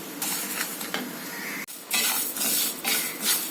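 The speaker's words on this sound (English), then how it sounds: "Now let us roast this till it is golden brown in low flame." Broken wheat (dalia) dry-roasted in a pan over a low flame, with steady scraping and stirring against the pan and faint clinks running throughout, close and fairly loud, with no talking.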